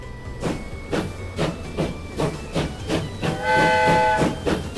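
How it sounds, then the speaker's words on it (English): Great Western steam locomotive in the game Transport Fever, UK setting, chuffing in a steady rhythmic beat of repeated exhaust puffs with a sustained whistle-like tone rising near the end, close and fairly loud with no talk. "Is this a Great Western engine?"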